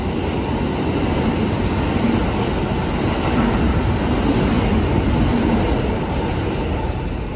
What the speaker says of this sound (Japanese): 次々とね、優等列車の方は通過していきます